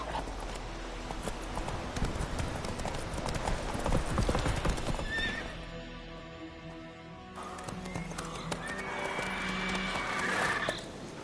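A horse gallops in The Witcher game with steady rhythmic hoofbeats, briefly quietening, then picking up again, with a whinny amid game ambience.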